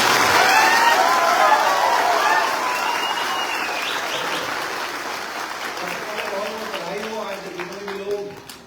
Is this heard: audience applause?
yes